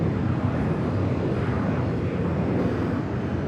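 A Boeing Dreamliner pushing back from the west gates at LAX gives a steady, broadband engine roar with wind-like rumble, continuous and fairly loud throughout, with no voices.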